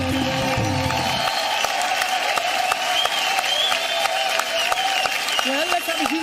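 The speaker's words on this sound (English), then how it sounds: "let's have a huge round of applause" Sustained, loud applause from a large awards-show audience after a live music performance, a dense steady roar of clapping with crowd noise, while a voice speaks over it near the start and end.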